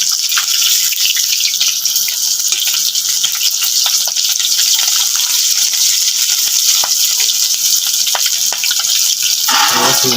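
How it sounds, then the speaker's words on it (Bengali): Singhi catfish fry in hot oil in a home kitchen, a steady loud sizzle and crackle with brief sharp pops running throughout, no voices. "দেখুন শিঙি মাছগুলো আমি ভাজতে দিয়েছি, ভাজা প্রায় হয়ে এসেছে"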